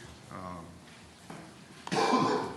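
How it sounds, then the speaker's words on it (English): A man clears his throat and coughs a couple of times at a morning committee meeting, the bursts close and fairly loud, with brief voice sounds nearby. "Forgive me if I'm coughing a little bit."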